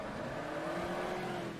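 A race car in the Automobilista sim racing game braking hard into turn one at Goiânia, a steady, dense engine and tire roar held close and loud throughout the short stretch with no break.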